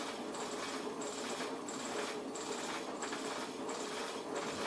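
The motor of an SSG free energy bike runs under heavy load, making a continuous mechanical whir with a rhythmic whooshing pulse about every half second. The sound is steady and close, with no speech.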